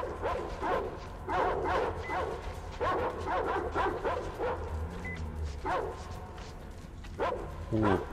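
Dogs in the game Metro Exodus give a run of close, repeated barks, yips and whimpers in irregular bursts over a low, steady background hum.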